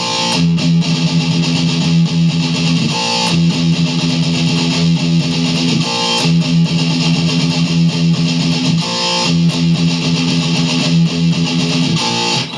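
A heavily distorted electric guitar chugs through a shortened version of a riff, dense and loud, repeating in roughly three-second cycles with brief gaps between phrases, with no voice.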